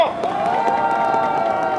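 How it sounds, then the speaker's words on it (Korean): Crowd at an outdoor Korean presidential campaign rally cheering and clapping, a sustained roar of voices and whoops over scattered applause, with a steady tonal hum running beneath. "박수 부탁드립니다."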